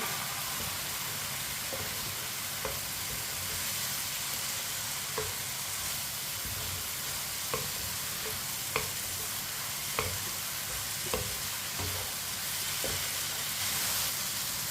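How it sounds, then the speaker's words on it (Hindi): Fried potatoes and okra stirred together in a pan, a steady low sizzle with a spoon scraping and clinking against the metal at irregular intervals, close and moderately quiet, no talking. "आलू और भिंडी डाल लेंगे फ्राई की हुई। मिक्स कर लेंगे।"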